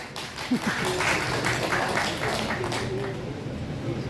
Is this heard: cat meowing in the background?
no